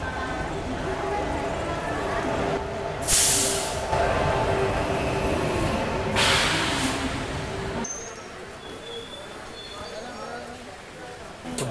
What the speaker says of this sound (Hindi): चलिए फाइनली अपनी ट्रेन का अराइवल हो रहा है।